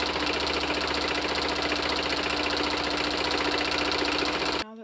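A sewing machine runs steadily while backstitching a seam on a clown Lolita costume, a loud, close, continuous rapid mechanical whir that stops abruptly at the end.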